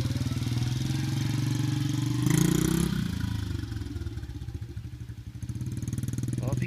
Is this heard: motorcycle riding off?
yes